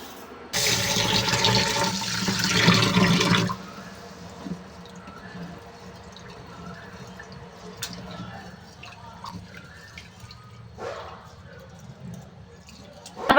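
Rice and lentils being washed in water in a kitchen: a few seconds of steady running, splashing water, then quieter drips and light clinks of the pot.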